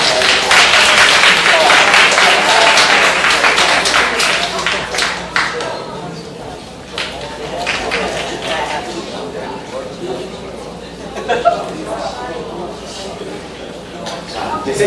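An audience at a Korean church youth service applauds to welcome performers for an offering special, with loud, dense clapping at first that thins out and fades over the following seconds.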